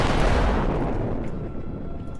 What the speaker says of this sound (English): I'm going to fire these missiles now